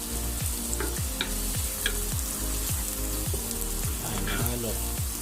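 Garlic sizzling in a hot pan for a beef, onion and garlic stir fry, a loud continuous fry with regular scraping stir strokes about every half second, close and without talk.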